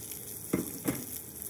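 Pork tenderloin searing in a hot pan over high heat gives a steady bright sizzle, with two short louder crackling bursts close together.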